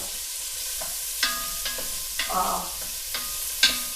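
Onion and garlic sauté in warm butter with a soft, continuous sizzle. Several sharp utensil taps and scrapes against the pan come at intervals, and one brief voice exclamation sounds partway through.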